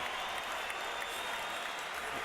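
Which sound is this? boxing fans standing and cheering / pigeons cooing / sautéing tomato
boxing fans standing and cheering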